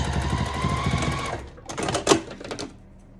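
Sewing machine back stitching on a zipper pouch: a short close burst of rapid stitching that halts, followed by a couple of brief clicks and handling sounds.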